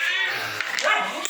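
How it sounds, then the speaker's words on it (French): A long-haired dachshund gives a few short, close barks and yips, mixed with voices talking nearby. "Moi, j'ai un chien qui aboie tout le temps."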